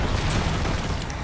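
Bombarda explosion spell cast in the video game Hogwarts Legacy, a thick, rumbling blast that fills the brief moment with loud, sustained low booming.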